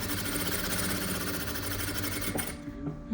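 A sewing machine stitches a boy's vest, running in a steady, rapid mechanical whir close to the microphone before stopping abruptly near the end.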